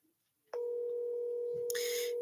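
A telephone tone heard while calling someone, one steady electronic tone switching on abruptly and holding to the end, with a brief burst of noise over it near the close.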